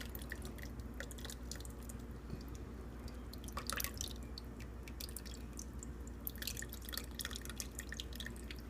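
Blended red chili sauce for tamales dripping and trickling through a strainer, quiet irregular wet drips and splats over a faint background hum, no talking.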